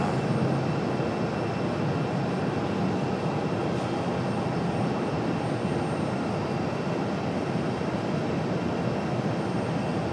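An American Airlines Boeing 737-800 passing at Raleigh-Durham airport gives a steady, moderate engine roar with a faint high tone, constant across the whole stretch with no voices.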